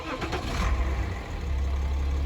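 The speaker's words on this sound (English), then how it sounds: "Okay, so foot on the brake, startup." A BMW X5 xDrive30d with a 3.0-litre turbo diesel starting up: a brief crank, then a low, steady diesel rumble settling into idle, fairly quiet and alone.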